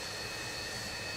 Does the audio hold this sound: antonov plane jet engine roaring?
yes